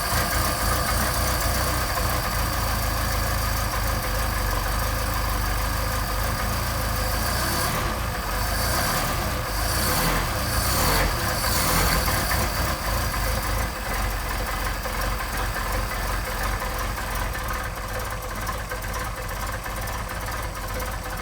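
A Mercedes 190SL engine with Solex carburetors idles steadily as it warms up, a continuous close rumbling drone that holds an even level with slight wavering throughout.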